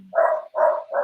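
A dog barks three times in quick succession, loud and close, with short gaps between the barks and no other sound.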